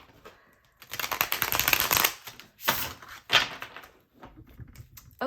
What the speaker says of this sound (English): we'll give these one more good shuffle